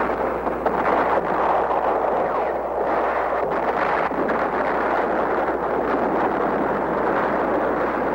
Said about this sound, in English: He steps up the intensity of his assault, scores a hit on the Marine ammunition dump.